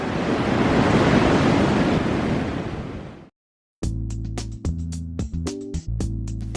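Ocean surf where Wily Scarp meets the sea near Bilbunya Dunes and Cape Arid: a loud, dense roar of breaking waves and wind for about three seconds, then it cuts off abruptly and gives way to unrelated tonal sounds.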